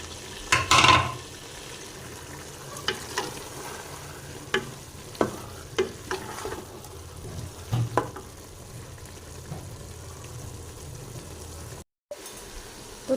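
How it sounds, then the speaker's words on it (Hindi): Minced keema with tomatoes is fried and stirred in a pan for an aloo keema dish, giving a low sizzle broken by scattered spoon scrapes and knocks, fairly close, with a brief dropout near the end. "तो 4 से 5 मिनट तक इसे अच्छे से भूनेंगे।"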